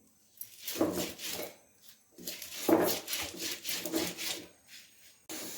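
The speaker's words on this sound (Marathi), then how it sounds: "कसा कसा वजडीसाठी वाटून घेते" Spice paste of black peppercorns, garlic cloves and coriander with a little water being ground for vajadi curry on a stone grinding slab, heard as three bursts of rough scraping and rubbing strokes of stone on stone with short pauses between.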